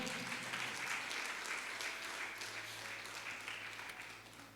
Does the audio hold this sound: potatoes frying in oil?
no